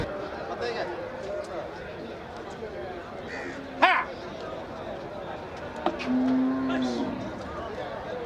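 Cattle moo at a busy livestock market in Melapalayam, with a few loud calls standing out over steady crowd chatter and people talking nearby.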